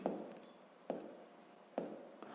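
A pen writes numbers by hand on paper, producing three soft, separate scratching strokes a little under a second apart, each starting with a tap and trailing off. The sound is close and quiet.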